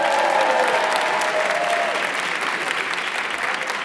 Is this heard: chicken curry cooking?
no